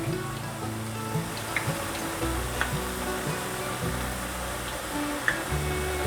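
Vegetable balls made with cabbage deep-fry in hot oil, giving a steady close bubbling sizzle with a few faint clinks, and no talking.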